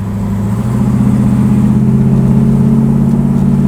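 A 1968 Pontiac Firebird V8 revs loudly and steadily close by, its deep burbling engine note holding strong and rising slightly in pitch over a few seconds.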